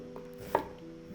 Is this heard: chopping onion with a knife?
yes